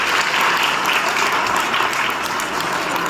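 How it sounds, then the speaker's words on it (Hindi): Loud, dense crowd applause fills the whole stretch, welcoming a central government minister at a village gathering in Bhopani, steady and continuous with no talk over it. "जोरदार से ताली बजाएं, मंत्री जी का स्वागत करें।"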